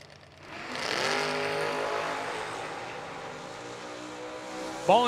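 Drag race cars, a 1968 Camaro and a Nova, launch side by side, a rising roar of revving engines swelling within a second and then holding as the cars pull away, heard from a distance and fairly faint overall.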